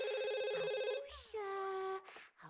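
A telephone rings in The Sims 2, with a steady electronic ring tone followed by a shorter chirping tone and game sounds, fairly quiet and clear.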